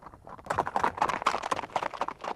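Icelandic horses' hooves clip-clop in a quick, steady rhythm, close and clear, with no one speaking.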